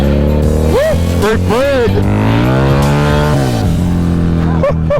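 Harley-Davidson V-Rod Muscle motorcycle engine rising and falling through several revs while riding, loud and steady throughout, with someone talking over it.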